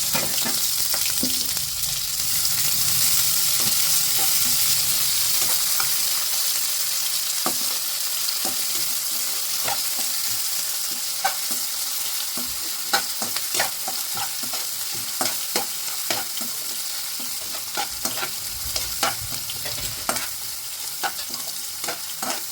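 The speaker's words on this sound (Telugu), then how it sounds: "ఇప్పుడు ఆయిల్ ఇది ఉల్లిపాయలు వేస్తాను" Onions sizzle and fry steadily in hot oil for a mutton kheema curry, a dense continuous crackle with scattered sharper pops and occasional stirring clicks, close and fairly loud with no talking.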